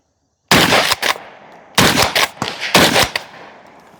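A JTS M12PT-1 semi-automatic shotgun fires until empty outdoors: four or five loud, close blasts in uneven bursts, each followed by a ringing echo, after a second of silence.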